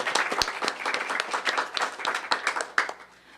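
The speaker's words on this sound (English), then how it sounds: "So another round of applause for them." An audience at a mayoral announcement of community schools partnership grantees gives a round of applause, a dense patter of many hands clapping close by that thins out toward the end.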